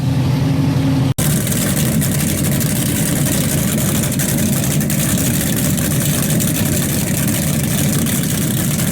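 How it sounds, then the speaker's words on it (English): Two powerboat engines idle with a steady low rumble, joined after a sharp click by a rougher, louder motor drone that runs on continuously, before the Cowes–Torquay race. "as you can hear, she works. Both engines works."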